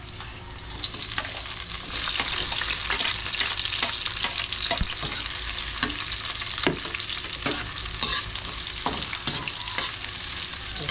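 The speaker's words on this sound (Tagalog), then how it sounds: "Gisa mo ng sumarap." Food sautéing in a pan, with a continuous sizzle and regular scraping stirring strokes from a utensil, close and steady, without any voices.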